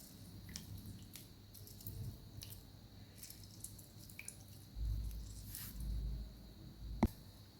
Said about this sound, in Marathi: इथं आपण एक निंबू कट करून त्याच्या बिया काढून घेतलेल्या आहे अशा प्रकारे पिळून. आता आपण निंबू या पाण्यात ऍड करायचं आहे.